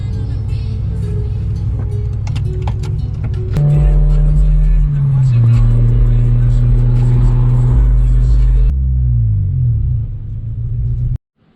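A car engine, newly fitted with a replacement fuel pump and filter, rumbles loudly and close, rising in revs then settling to a steady idle before cutting off abruptly.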